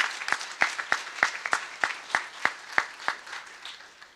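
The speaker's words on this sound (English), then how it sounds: "And give yourself a round of applause." Attendees at a police promotion and retirement ceremony give a round of applause, a crowd's clapping with a strong, regular rhythm of accented beats, steady and fairly loud.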